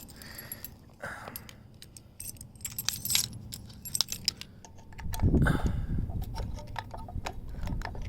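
A bunch of keys jangles and clicks repeatedly while being used to pry a 3D-printed ABS part out of place, with scraping and clinking close up and no talking.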